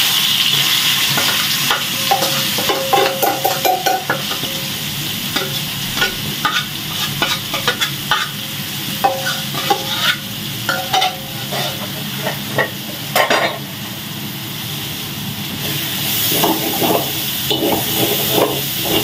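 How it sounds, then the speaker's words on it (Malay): Continuous loud sizzling of shallots frying in hot oil reused from frying chicken, with repeated scraping and clattering of a utensil stirring the pan. "Kita goreng sampai dia garing, kita tumis sampai dia garing"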